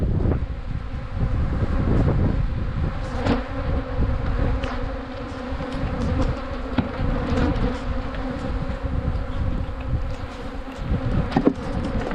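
Honeybees swarming around opened hives while frames of brood are moved, a loud continuous close buzzing hum that fills the whole stretch, with slight rises as individual bees pass near.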